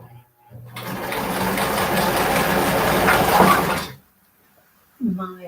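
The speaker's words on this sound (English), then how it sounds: "why are you using a little sewing machine?" A small vintage sewing machine runs at a steady speed for about three seconds with a fast mechanical whir and rattle, stopping abruptly, with brief low sounds before and after.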